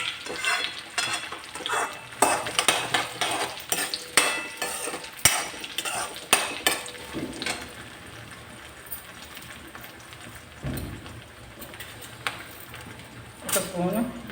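Seasoning for semiya upma fries in oil in a pan, with sizzling and a metal spoon scraping and clinking as it is stirred. Someone talks over the cooking at close range.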